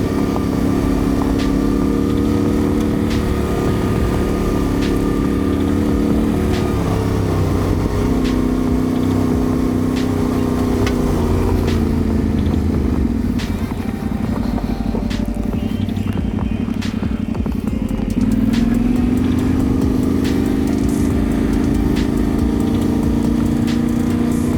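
Motorcycle riding along a dirt path in second gear, held around 40–50 km/h, its engine droning loud and steady throughout with slight rises and dips in pitch and wind noise over it.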